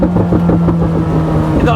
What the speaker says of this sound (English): Not only has it got thunderous overrun